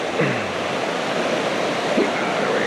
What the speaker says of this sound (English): I don't know how well you'll be able to hear me down here with the river.